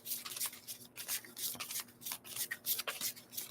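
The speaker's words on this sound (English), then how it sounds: "I'm shuffling 2 other decks for her" Tarot card decks being shuffled by hand during a live reading, a soft, steady run of riffling and rubbing bursts close to the microphone, repeating in quick uneven waves with no talk.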